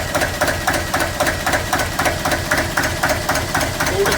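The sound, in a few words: engine running at about 400 RPM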